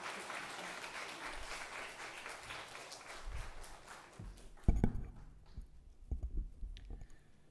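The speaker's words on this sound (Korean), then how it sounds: "우리 선교사님 나오실 때 격려의 박수 한번 부탁드리겠습니다" A church congregation at a Sunday worship service claps in welcome for a missionary, a full wash of applause that fades out midway, followed by scattered thumps and small movement sounds in the hall.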